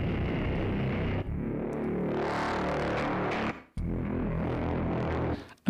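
Two synthesizer presets, an earthy pad and a horror-style tone, blended into one thick layered sound with dense sustained harmonics, played alone in long held phrases with brief breaks between them.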